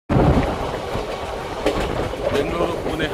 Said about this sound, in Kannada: ಫೈನಲಿ ನಮ್ಮ ಟ್ರೈನ್ ಈಗ ಚಿತ್ರದುರ್ಗ ಎಂಟ್ರಿ ಆಗ್ತಿದೆ.